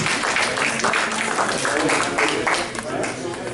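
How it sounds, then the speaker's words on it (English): A conference audience gives a round of applause after a panel on humanitarian aid, healing and reconciliation. Loud, dense clapping fills the room and then fades slightly near the end. "let's give another round of applause"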